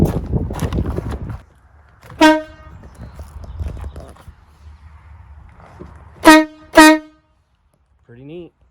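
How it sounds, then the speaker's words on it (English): A semi truck's loud air horn blasts once, then twice more in quick succession, harsh and close, with people talking between the honks. "Let's go ahead and honk it."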